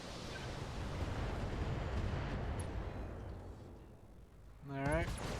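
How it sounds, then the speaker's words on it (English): A long-range missile salvo fired at a Griffin mech in the BattleTech game rolls out as a dense, rumbling barrage that fades, then a sharper burst with a rising whine near the end. "I'm gonna fire all of the LRMs into the Griffin"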